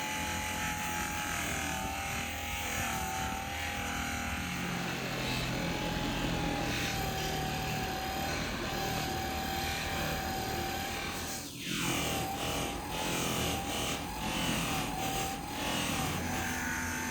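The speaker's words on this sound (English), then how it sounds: "To finish off the handle, we bring it to the cloth buffing wheel." A cloth buffing wheel polishes a wooden knife handle with brass pins on a custom Damascus chopper forged from rebar, giving a steady loud motor whir with a faint hum and a brief dip in pitch as the handle is pressed in.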